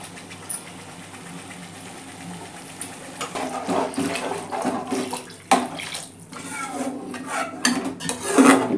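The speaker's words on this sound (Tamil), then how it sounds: "இப்போ அந்த புழிஞ்ச சுரக்காய் தண்ணியை இப்போ நான் அதில் சேர்க்குறேன்." Squeezed bottle gourd water pours into a cooking pan of sautéed onion and tomato, a steady splashing wash that grows louder and fuller toward the end, with a few light clinks of the pan.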